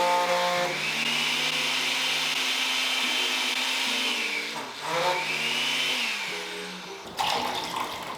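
A countertop blender runs on watermelon with a steady, loud motor whine that dips and strains as the blades bog down, then briefly recovers before a clattering bump at the end.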